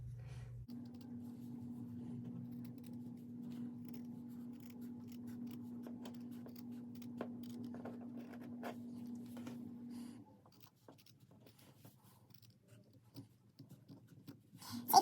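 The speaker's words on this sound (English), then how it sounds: "Look, I'm mostly cutting with the base of the scissors." Scissors snip steadily through two layers of a doll template, close and quiet, with soft crisp cuts over a low steady hum, fading near the end before a final louder rustle.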